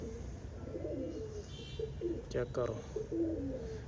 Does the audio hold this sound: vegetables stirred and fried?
no